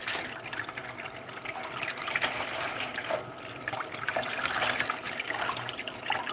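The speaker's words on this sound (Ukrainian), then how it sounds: "Тепер ми його промиваємо зараз водичкою." Sunflower seeds being rinsed with water, a continuous close trickle and splash of running water from a tap, steady throughout with no voices.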